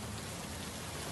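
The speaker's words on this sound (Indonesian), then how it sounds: "kok tiba-tiba hujan?" Sudden steady rain in the game Sakura School Simulator hisses as a dense, even downpour throughout, loud and continuous with no voices.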